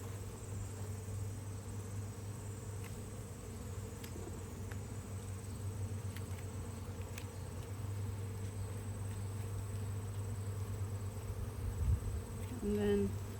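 Honey bees buzzing in an open hive during a beekeeping inspection: a low, steady, faint drone hums continuously in the background, with a few soft clicks and handling noises near the end.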